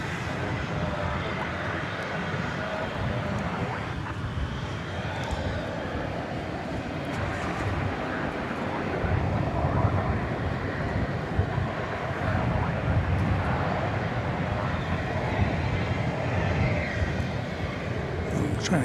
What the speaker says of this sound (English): It's Flight 1797 off to Las Vegas, an Airbus A321.